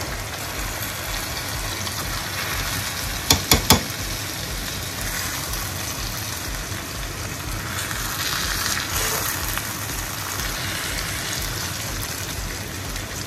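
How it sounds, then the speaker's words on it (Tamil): Brinjal pieces frying in oil in a pan with cumin, a steady broadband sizzle holding evenly throughout with a brief cluster of sharp clicks near the start. "ஸோ இந்த மீன்வைல் நம்ம கத்திரிக்காய் செம்மையாக குக் ஆகிட்டு இருக்கு."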